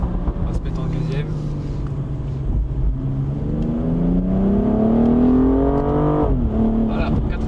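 A BMW M235i accelerates in second gear, the engine note rising steadily in pitch as it pulls, then dipping briefly before climbing again. Heard from inside the car, with voices talking over it.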